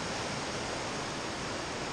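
Steady broadband rush of the Thompson River flowing beneath a bridge along the Foothills Trail, a constant close wash of moving water with no gaps and no voices.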